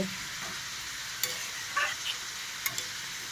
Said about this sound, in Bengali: এভাবে ডিমগুলো ছেড়ে দেওয়া হলো। দুই দিকে গ্যাসে বসানো হয়েছে।